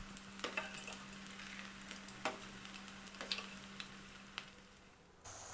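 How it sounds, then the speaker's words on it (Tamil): Potato balls fry in oil kept off high flame, a faint, gentle sizzle punctuated by scattered light ticks and pops, with no one speaking. "ரெடி பண்ணி வச்சுருக்க பொட்டேட்டோ பால்ஸ் எல்லாம் எண்ணெயில் போட்டு ஃப்ரை பண்ணி எடுக்கணும்"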